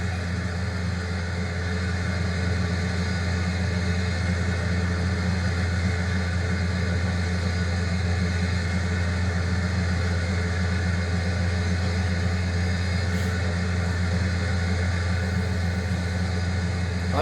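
A farm tractor engine runs steadily through an oat harvest, a constant low droning hum with no breaks and no talk.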